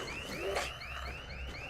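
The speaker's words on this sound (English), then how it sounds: "I smashed his treasured possessions and his security alarm went off" Security alarm going off in a video game, a faint repeating electronic whoop that sweeps up in pitch again and again in a fast rhythm, quiet and alone.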